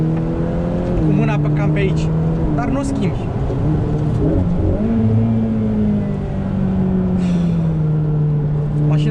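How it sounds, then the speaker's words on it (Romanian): A Ferrari F8 Spider's engine hums steadily beneath someone talking, its pitch dipping and rising slightly as the revs shift, loud and close throughout. "Mașina se turează până la 8000."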